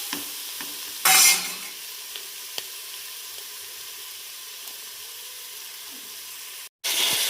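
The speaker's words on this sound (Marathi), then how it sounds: "तर आता परतून घेते मी चांगलं. हे बघा मस्त परतलं मटण मसाल्यामध्ये." Mutton sautéed in spice masala in a pan, a soft steady sizzle broken by a few scraping stirs and one loud burst of frying, close and quiet with no talk.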